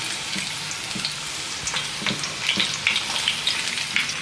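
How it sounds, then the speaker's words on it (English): Garlic frying in a pan of hot oil for a Thai pan-fried fish dish, a close, steady sizzle with small crackles and pops scattered throughout, no talking. "So in with our garlic."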